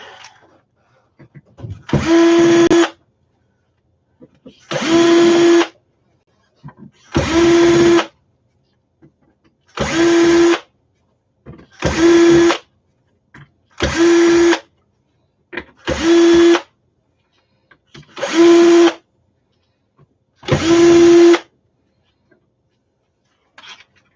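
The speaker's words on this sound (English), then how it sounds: "it's got Phillips screws, so I get to unscrew this one" A power drill unscrews Phillips screws from aluminum scrap in nine short, close whirring bursts, each about a second long and separated by quiet pauses of a second or two.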